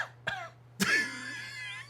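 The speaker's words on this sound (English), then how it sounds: "The cough was perfect." A person coughs close to the microphone, a couple of short sharp coughs followed by a longer throat-clearing cough, with no talk over it.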